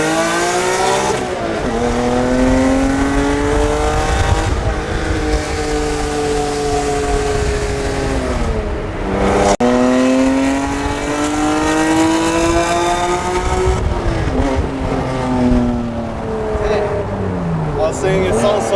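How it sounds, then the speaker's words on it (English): A 1991 Honda NSX engine revs hard while accelerating in first gear, its pitch climbing repeatedly through throaty sweeps. The engine is loud and close inside the car, and voices talk over it. "Saying it sounds so throaty."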